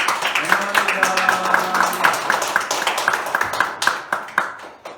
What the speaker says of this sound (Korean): 다 함께 박수로 환영하시겠습니다